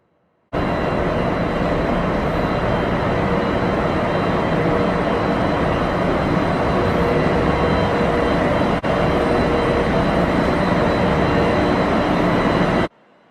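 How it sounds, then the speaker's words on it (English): A steady, loud rumble of a moving train in Japan, a former Narita Express heading toward Nagano, heard from inside, running continuously with little change and one brief click partway through. "Then we're going to ride a train on the left."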